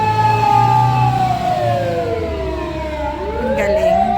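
A fire engine siren wails loudly as the truck passes along a residential street in Tokyo, its pitch sliding downward and sweeping through several tones over a steady engine rumble.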